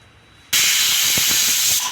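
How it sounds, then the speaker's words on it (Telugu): A pressure cooker with cabbage inside lets out a sudden loud, sustained hiss of escaping steam after a quiet start, rushing close and steady for well over a second. "ఒక విజిల్ వచ్చింది కదా ఇంకా ఆపేసేసుకోండి ప్రెషర్ పోయింది"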